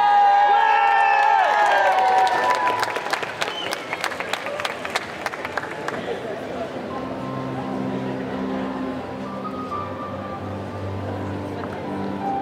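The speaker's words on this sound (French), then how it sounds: "On applaudit." Audience at a Sunday costume contest during a geek convention in Chalon-sur-Saône, France, bursting into loud, steady applause with some cheering, as a sustained roar that slowly settles while a low background hum continues.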